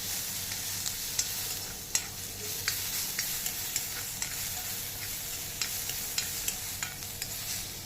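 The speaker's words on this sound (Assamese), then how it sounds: "এয়া আমি দি পেলাই এয়া অলপ তাক লৰাই লৈছোঁ।" Onion, garlic and ginger paste fries in very little oil while a spoon stirs it, a steady close sizzle broken by repeated sharp scrapes and taps of the utensil against the pan.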